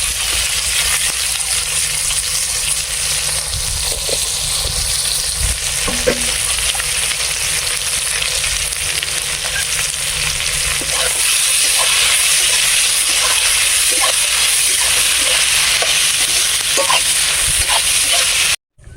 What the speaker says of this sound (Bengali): পেঁয়াজগুলো দিয়ে দেবো তেলের মধ্যে, পেঁয়াজগুলো ভেজে নেবো